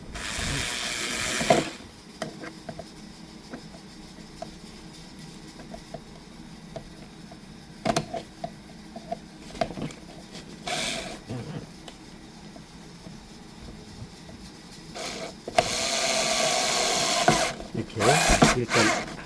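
A power driver sets screws while a suitcase wheel is replaced, with short bursts of whirring and ratcheting separated by pauses, close and fairly loud, with tool handling and clicks in between.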